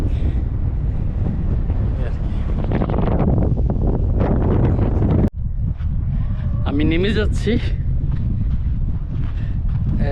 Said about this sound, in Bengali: এখন আবার বাতাস শুরু হয়েছে